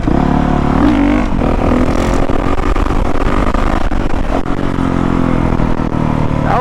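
A 2019 Honda CRF450R dirt bike riding hard and revving, a loud continuous engine roar rising and falling through the gears close up, with wind and mechanical clatter and no voices.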